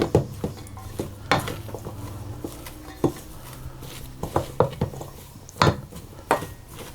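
Cheese and onion pasty filling being mixed in a bowl, with a utensil scraping and clinking against the dish in irregular knocks and taps, close and fairly loud, with no talking.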